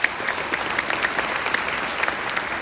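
Band members at a spring school band concert clap for one another in a steady, dense burst of applause that holds evenly throughout, with no talk over it.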